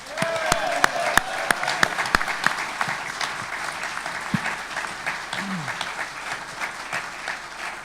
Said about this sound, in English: I'd like a big, big round of applause for former unified world champion Amir Khan.